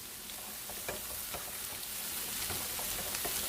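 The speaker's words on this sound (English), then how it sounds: "we are going to just stir fry that for 3 minutes" Mixed peppers and vegetables stir-fried over high heat give a dense, continuous sizzle with scraping stir strokes and scattered pops, close up and fairly loud.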